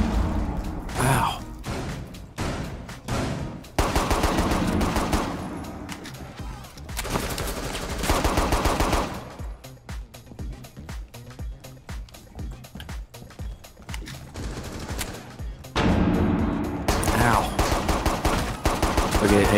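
Automatic and single gunfire bursts in Rainbow Six Siege, loud, dense volleys coming in waves under intermittent game effects, with players talking over parts of the action.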